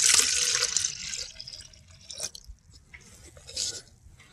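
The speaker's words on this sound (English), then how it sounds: "the juice started pouring out of there" Freshly pressed apple juice pours and splashes from a mash press fed by a hammer mill, a loud, bright watery gush that fades into intermittent drips and trickles.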